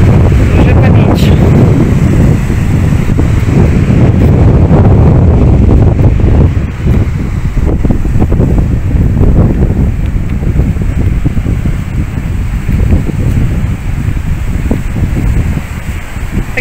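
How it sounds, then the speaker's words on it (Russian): Ocean waves and strong wind on a Tenerife beach: a loud, continuous roar of surf with heavy wind buffeting the microphone throughout. "Большая волна."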